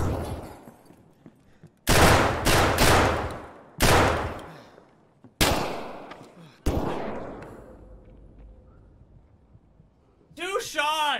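Gunshots in a video game, several loud close shots and bursts with long echoing reverberant tails spaced a second or two apart, followed by quieter rumble and a voice talking near the end.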